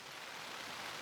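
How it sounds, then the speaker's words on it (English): Rain patters steadily on a tent near the summit of a peak in the Mourne Mountains, a soft, even hiss with no other sounds. "it's raining"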